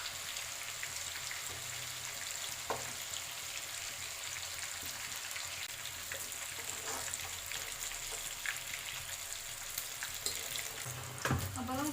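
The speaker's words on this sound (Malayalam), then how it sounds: "അപ്പോൾ നമുക്ക് ബാക്കി ചിക്കനും കൂടെ വറുത്തെടുക്കാം" Chicken pieces for biryani frying in hot oil, a steady dense sizzle running throughout with occasional stirring clinks and scrapes, close and even.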